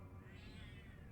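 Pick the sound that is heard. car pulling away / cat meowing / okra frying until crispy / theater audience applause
cat meowing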